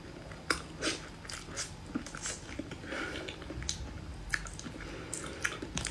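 Close, wet biting and chewing of a long sausage at a seafood mukbang meal, with repeated soft squishes and small crunchy bites in an irregular rhythm and no talking.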